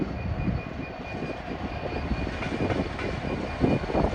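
A Class 66 diesel locomotive, 66748 in Britannic Explorer livery, passes at Peterborough on the East Coast Main Line, a continuous rumbling engine drone with rattling wagon noise, fairly close and steady throughout.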